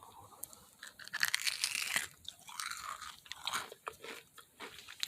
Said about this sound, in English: you guys can hear this crunch. Let me bite this for you guys